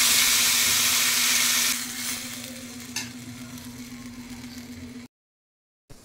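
Hot tempering of mustard seeds, dried red chillies and curry leaves is poured into an eggplant and potato sambar without dal. A loud sizzle bursts up at first, then settles into a softer crackle over a steady hum before cutting out.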